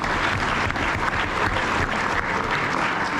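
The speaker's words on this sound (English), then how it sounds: "How about a round of applause for them?" Steady applause from a crowd at a father-son steak fry, dense clapping holding at an even level throughout with no voices standing out.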